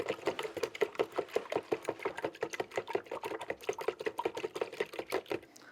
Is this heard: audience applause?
no